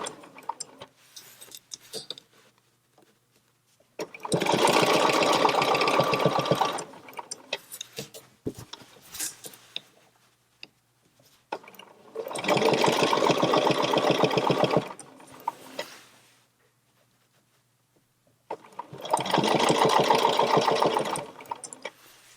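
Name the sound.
sewing machine free-motion quilting a spiral with a ruler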